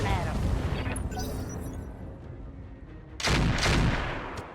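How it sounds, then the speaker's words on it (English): Mech weapons fire in the MechWarrior game, with heavy booming blasts, a rumbling volley at the start and another loud burst near the end, under someone talking. "Firing at 'em."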